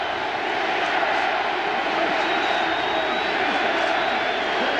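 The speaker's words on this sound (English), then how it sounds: "The crowd urging the Buffalo defensive unit on with 27 seconds remaining in the half." A packed stadium crowd at a 1990 AFC divisional playoff football game between Miami and Buffalo roars in a dense, sustained wall of noise urging on the Buffalo defense, loud and unbroken throughout.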